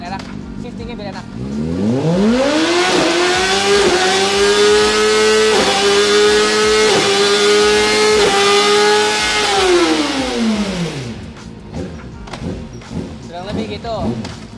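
A Honda CBR600 sport motorcycle engine revs up from idle, climbs to a high sustained whine with brief gear-shift dips, then winds back down, loud and close.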